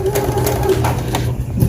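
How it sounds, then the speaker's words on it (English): A sewing machine stitches a 1/4 inch seam through fabric for baby pants, a steady close mechanical hum running throughout with a faint high tone above it. "I need to get my machine started a little bit, so I'll go a little bit past my start mark with my fabric and then back stitch"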